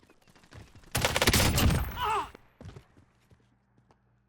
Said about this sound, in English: Somebody was just firing at me